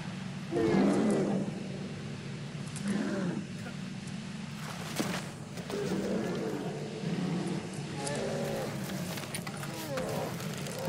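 Growls and roars from a bear in the prehistoric video game Far Cry Primal, several rumbling bursts rising and falling over a steady game ambience, with someone talking faintly among them.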